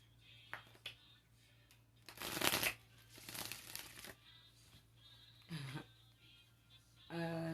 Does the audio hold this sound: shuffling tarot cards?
yes